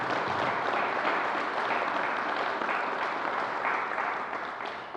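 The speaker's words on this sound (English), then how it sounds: "let's give him another round of applause" An audience claps at Governor Andrew Cuomo's COVID briefing in a dense, steady wash of applause that holds for several seconds and eases slightly at the end.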